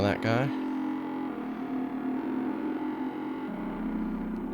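A synthesizer voice drenched in reverb, opening with a brief warbling swept burst and then holding a dirty, buzzy sustained drone with a lingering echoing tail, moderately loud throughout.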